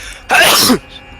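A single loud, close sneeze bursts out after a quiet moment, sharp and breathy, then fades back to a low room hush.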